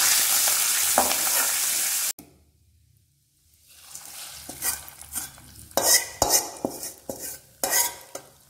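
Grated ginger, curry leaves and coconut tempering in a pan for ven pongal: a steady sizzle first, then a brief quiet, then repeated scraping stirs and spoon clinks against the pan, with no talking.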